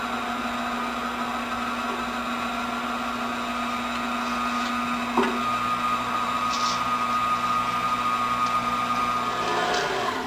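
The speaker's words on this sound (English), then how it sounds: "I'm just going to crank the old KitchenAid on here and start putting the meat through it." A KitchenAid mixer with a meat grinder attachment runs while meat is fed through for breakfast sausage, giving a steady, droning motor whine with a single sharp click partway through and no speech.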